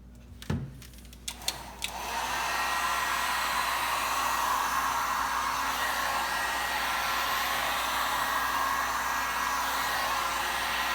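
A hot air tool warming a Tesla Model S headlight starts after a few sharp clicks, then settles into a loud, steady blowing whoosh that runs unbroken and close up.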